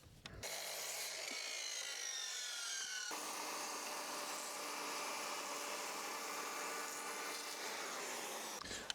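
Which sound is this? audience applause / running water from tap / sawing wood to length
sawing wood to length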